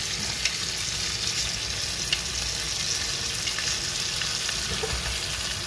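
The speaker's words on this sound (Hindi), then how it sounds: "अब मैंने लहसुन डाल दिया, लहसुन हल्का सा जो है ऑयल में फ्राई होता है" Garlic frying lightly in oil, with a soft, continuous crackling sizzle and a few small pops, fairly quiet and steady with no speech.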